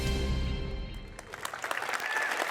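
Music fades out as clapping rises at a school sports awards show, a crowd's applause building over the last second or so.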